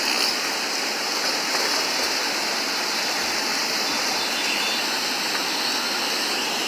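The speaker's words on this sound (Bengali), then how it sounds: "পানির চাপ, প্রচুর পরিমাণে পানির চাপের কারণে কিন্তু বীরগঞ্জের স্লুইস গেটের গেটগুলো খুলে দেওয়া হয়েছে।" Water surges through the opened Birganj sluice gates in a loud, constant roar, a dense unbroken rush with no pauses.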